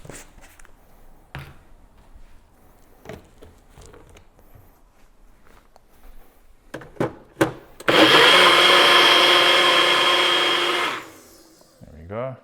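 A blender mixes pancake batter with protein powder, a loud steady whir of about three seconds following quiet clatter and knocks from handling the ingredients and container.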